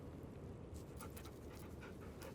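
Dog panting in the game Baldur's Gate 3, quick rhythmic breaths at low volume, followed by a brief louder blip at the very end, no speech.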